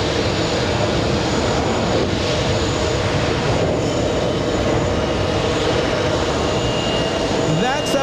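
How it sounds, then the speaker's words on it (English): A heavy Boeing 747 cargo jet rolls down runway 4 Left at JFK on takeoff with a loud, steady, continuous engine roar, while a voice speaks over it. "That 747 using almost the entire length of 4 left."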